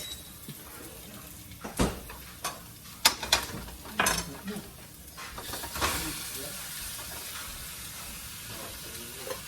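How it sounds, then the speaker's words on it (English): Ground turkey and pork meat drops into a pan of sizzling onions, with several sharp clattering scrapes and knocks of a utensil against the pan over a steady frying hiss. "Now what I'm gonna do is I'm gonna add my meat."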